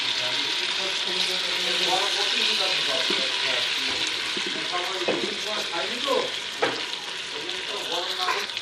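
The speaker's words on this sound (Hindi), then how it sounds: "अब ये हमारा फुल गोल्डन कलर आ गया, इसमें ऐड करेंगे टमाटर बड़ी काट के" Chopped tomatoes hit hot oil with golden-fried onions for a white chana curry, producing a loud, continuous sizzle with stirring scrapes and spatters, close up and steady.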